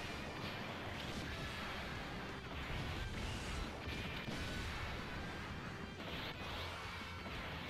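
A grenade attack lands in Dragon Ball Z Dokkan Battle: dense, continuous crashing and smashing impacts with whooshing blasts, steady and loud throughout.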